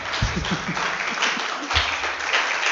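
A congregation at a church service claps together in a steady, fairly loud burst of applause, with a voice faintly talking underneath.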